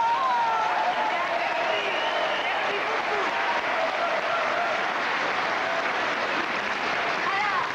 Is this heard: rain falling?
no